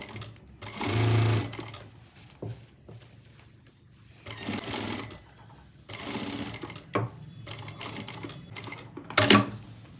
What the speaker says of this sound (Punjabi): ਪੇਸਟਿੰਗ ਪੇਪਰ ਦੇ ਉੱਪਰ ਅਸੀਂ ਬਿਲਕੁਲ ਕਿਨਾਰੇ ਕਿਨਾਰੇ ਤੇ ਸਲਾਈ ਲਗਾ ਲੈਣੀ ਹੈ